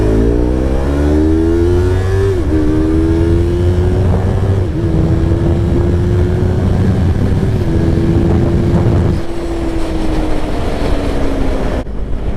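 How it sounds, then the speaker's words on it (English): A small R3 motorcycle in fifth gear drones loud and close, its engine pitch climbing steadily through a long pull, with short dips where the throttle eases and heavy wind rush, and no talking. "we're in 5th gear accelerating in this little thing"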